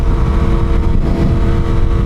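Yamaha R1 sport bike engine droning steadily while riding, a loud continuous rumble with wind noise and no pauses.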